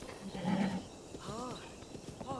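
A horse in Zelda: Breath of the Wild whinnies and snorts, close and fairly clear, with faint hoof clatter under a low game background.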